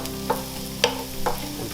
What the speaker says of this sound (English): So I'm moving all the vegetables to one side of the pan